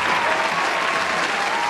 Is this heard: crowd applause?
yes